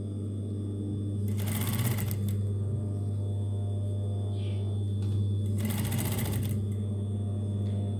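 A sewing machine stitching a dress cover whirs in two short bursts over a constant low hum, with quiet gaps between the runs.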